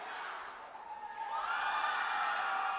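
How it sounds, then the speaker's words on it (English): Students at the Robocon India national finals cheer for their teams, a distant blended crowd roar that swells and grows louder and more sustained in the second half. "The students are so excited and they're cheering up louder and louder for their teams."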